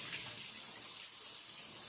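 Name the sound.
rinsing soaked peanuts under running water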